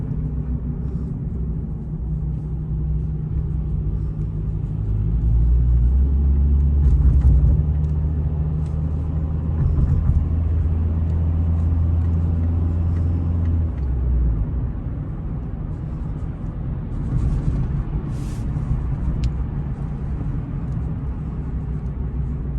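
A 2000 Toyota Camry LE driving in heavy city traffic, a steady low engine and road rumble that swells briefly mid-drive, heard from inside the cabin without talk.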